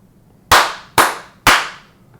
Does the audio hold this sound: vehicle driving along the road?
no